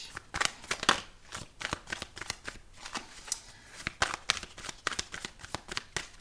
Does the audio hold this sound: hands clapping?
no